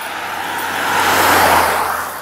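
A truck loaded with oak railroad ties passes on a small road, its engine and tyre roar swelling to a loud peak and then easing slightly as it goes by.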